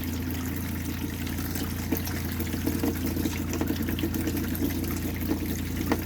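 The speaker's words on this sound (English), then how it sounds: "You turn it on, it's going to be clear water coming out" Steady stream of water pouring from a travel trailer tap during winterizing, a continuous close rushing flow with a low hum beneath, constant throughout with no talk.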